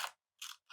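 Scissors snip a paper image for a collage, two short, quiet cuts separated by silence, close and alone.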